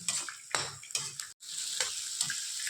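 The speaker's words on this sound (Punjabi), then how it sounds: "ਤੇ ਮਟਰਾਂ ਨੂੰ ਵੀ ਆਪਾਂ ਹੁਣ ਤੜਕੇ ਦੇ ਵਿੱਚ ਵਧੀਆ ਭੁੰਨ ਲਾਂਗੇ" Peas being roasted in a spiced tempering for cabbage curry, with a bright continuous sizzle and several scraping stir strokes of a spoon in the pan, close and moderately loud.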